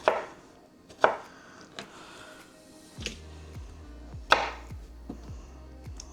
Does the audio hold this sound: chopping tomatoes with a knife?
yes